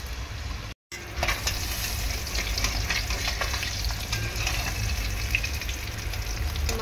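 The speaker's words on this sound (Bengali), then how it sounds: "মাছগুলো এক সাইড ভাজা হয়ে গিয়েছে, আরেক সাইড কিন্তু আমি উল্টে দিয়েছি। ভালো করে ভেজে নেব।" Pabda fish fry in oil in a pan, giving a steady close sizzle with crackling pops throughout after a brief silent gap near the start.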